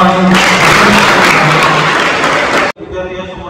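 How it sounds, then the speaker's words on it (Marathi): Loud, dense applause from a school crowd celebrating election results fills the clip, with voices mixed in, then cuts off abruptly near the end, leaving quieter chatter. "जोरदार टाळ्या"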